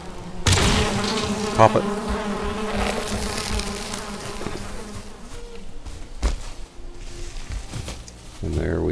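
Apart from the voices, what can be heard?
bees buzzing around a beehive in the video game Valheim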